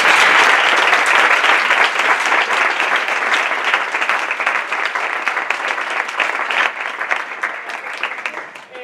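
Loud, sustained applause from an audience at an academic talk on crustacean research, dense clapping that fills the room and slowly tapers off toward the end.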